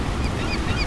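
Seagulls calling in a sailing sound mix, a quick burst of honking cries over a dense, full background.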